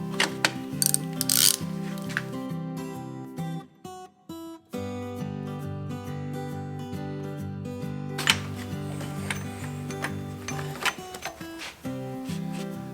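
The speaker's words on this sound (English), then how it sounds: "you have to loosen this pulley, which is a 14mm" A ratchet wrench clicks in quick, close bursts while loosening a 14mm timing belt tensioner pulley on a 1989 Ford Taurus SHO. The clicking runs in rhythmic runs separated by short pauses, with metallic mechanical tones and no talking.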